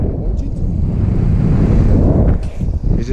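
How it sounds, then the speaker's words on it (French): Strong wind blows outdoors, buffeting the microphone with a loud, continuous low rumble that surges and dips slightly, with faint scattered higher sounds on top. "parce qu'il y a un vent quand même aujourd'hui. Il y a un vent assez fort."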